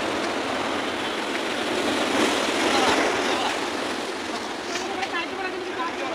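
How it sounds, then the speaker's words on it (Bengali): Large ocean waves surging onto the beach at Digha, a broad, loud wash of surf swelling and easing over several seconds, with faint voices in the background. "তাহলেই বড় বড় ঢেউ চলে আসছে।"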